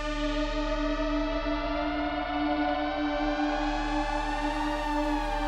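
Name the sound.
Mini V synth lead with oscillator 2 pitch gliding effect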